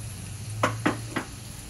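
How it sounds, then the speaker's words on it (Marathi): Crushed garlic dropped into hot oil in a kadhai for a dried bombil chutney, giving three short, sharp sizzling bursts over a low steady hum, alone without speech. "तेलावर आपण लसूण घालूया. लसूण मी ठेचून घेतला."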